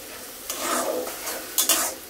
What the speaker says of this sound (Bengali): এখন এগুলো নেড়ে ছেড়ে ভেজে নিব।